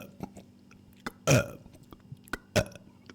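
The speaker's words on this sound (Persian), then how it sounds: "داره یک سال داره آروغ میزنه" A person burps loudly twice, close to the microphone, with soft clicks and mouth noises between the burps.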